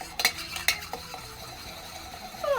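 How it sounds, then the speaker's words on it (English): A bar spoon stirring a cocktail in a metal mixing tin, with a few sharp metallic clinks early on, then a faint swirling scrape and a rising ring at the end, all close and with no talking. "Did I ever teach you how to stir a cocktail?"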